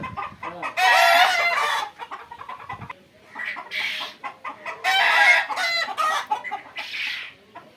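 Egyptian Fayoumi chickens on a farm in Jamalpur, loud nearby clucking with repeated rooster crows in bursts, alone without talk.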